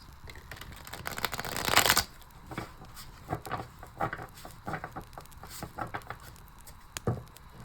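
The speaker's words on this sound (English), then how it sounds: "this is such a bad shuffle" Tarot cards being shuffled by hand in uneven bursts: a dense riffle of paper slaps early on, then scattered soft flicks and taps, close and moderately quiet, with no talking.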